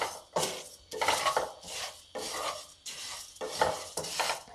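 A spoon scrapes and stirs whole spices dry-roasting in a pan over a slow flame, in repeated rhythmic strokes with short gritty rattles and pauses between them, close and clear.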